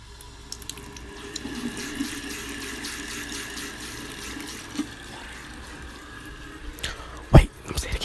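Tap water runs steadily into a sink during an ASMR session, a continuous close splashing stream that thickens with a few louder gurgles and knocks near the end.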